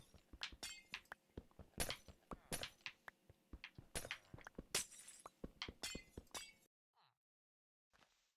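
Glass blocks breaking one after another in Minecraft, a rapid run of sharp, bright clinks and shattering crunches, loud and close. The burst stops abruptly and is followed by near silence with a couple of faint ticks.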